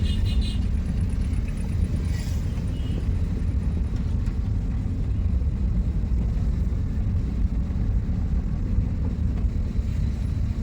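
A car driving in second gear while the accelerator is eased on gently gives a steady, loud low rumble of engine and road noise that stays constant throughout, with no speech.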